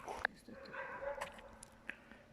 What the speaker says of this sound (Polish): Ten biały nas widzi tutaj i szczeka.